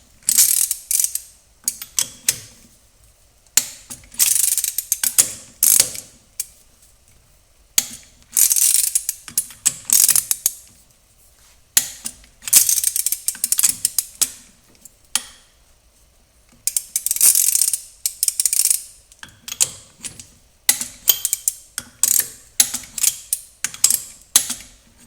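Torque wrench ratcheting in bursts as rear wheel spacer nuts are tightened on a John Deere 2025R compact tractor, a rapid clicking run repeating every few seconds with short pauses, close and fairly loud, no talking.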